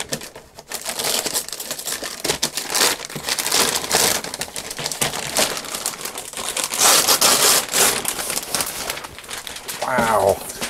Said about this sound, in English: So let's just open this up and see what this one is.